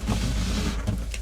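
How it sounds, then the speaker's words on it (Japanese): Cassette toilet mechanism in a Ducato-based Etrusco T 6900 SB camper van, giving a short close-up motorized whir like a power window, steady for about a second with a faint click near the end. "ここに常設のカセットトイレがあります。 こちらはこんな感じで動きます。"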